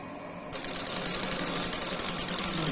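A sewing machine starts up and runs steadily, stitching folded blouse fabric strips with a fast, even mechanical chatter from up close.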